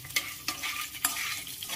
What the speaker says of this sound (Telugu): జీడిపప్పు వేసుకొని కొంచెం వేయించుకుంటాను.